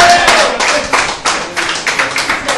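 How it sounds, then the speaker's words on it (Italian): A small group applauds the director at the opening of a club, close, loud claps in uneven bursts with distinct individual hand strikes. "un applauso anche per il nostro direttore"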